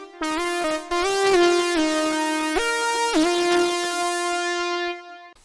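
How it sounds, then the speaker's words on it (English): A bright, sustained synth lead plays a simple stepwise melody of held notes with gliding pitch changes, alone and fairly loud. "Now I'm feeling like adding a simple synth line"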